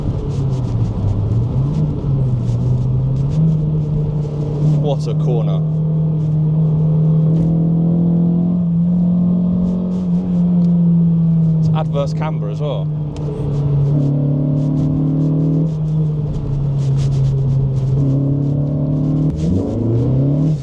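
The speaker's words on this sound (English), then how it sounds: "This 2-litre engine truly comes alive." A Renault Clio RS200's 2-litre engine drones and rises in revs, holding a strong, steady hum throughout as someone talks excitedly over it.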